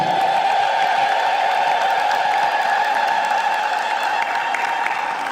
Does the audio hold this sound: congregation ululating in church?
yes